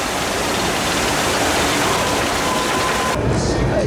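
Water splash ride at Wiener Prater amusement park plunging down a drop, a loud, steady roar of rushing and spraying water close by that shifts in tone near the end.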